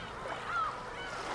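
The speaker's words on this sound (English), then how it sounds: "You can hear the Umineko crying. The seagulls." A single gull-like cry rises and falls briefly over a steady, faint wash of seaside ambience resembling ocean waves, from the beach scene of the Umineko visual novel.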